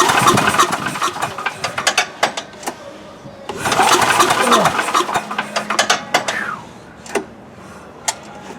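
The engine of an MTD Yard Machine chipper with carburetor trouble, cranked over in two loud ratcheting bursts that sputter and fail to catch, then clicks and clunks as it falls quiet.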